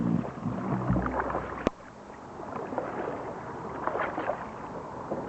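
Sea kayak paddled along a river, with soft water swishes and splashes from paddle strokes over steady wind and flowing-water noise, plus one sharp knock partway through.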